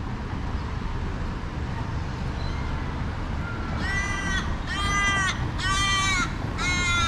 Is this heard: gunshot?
no